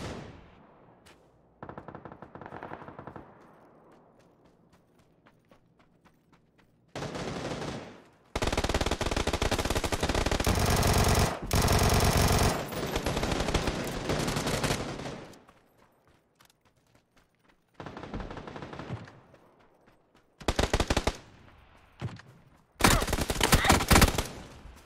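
Gunfire in PUBG: loud bursts of automatic fire in separate volleys, with quiet gaps between them and a final cluster of rapid shots.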